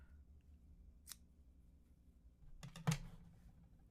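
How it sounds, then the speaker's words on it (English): Scissors snip through crochet yarn at the end of a granny square stitch, giving a quiet early click and then a sharper double cut near the end, with no talking. "cut your yarn"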